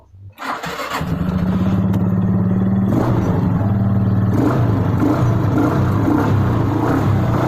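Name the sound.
Suzuki Skydrive motorcycle engine starting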